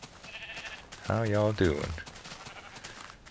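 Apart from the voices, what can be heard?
sheep bleating in Minecraft video game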